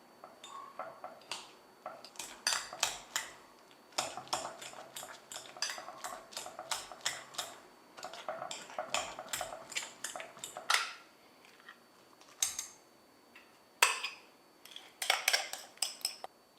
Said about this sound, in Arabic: لازم نبدا نطحن فيها وهي سخونه